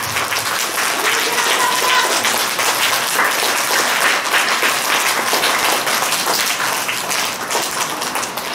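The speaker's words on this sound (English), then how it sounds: "Give round of applause." An audience at a school day celebration applauds loudly and steadily as the principal comes to the stage, dense clapping sustained throughout with faint crowd voices underneath.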